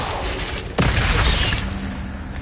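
The Incendio fire spell cast in Hogwarts Legacy, a sudden loud whooshing burst that flares then sustains a roaring rush over a steady background before tapering slightly.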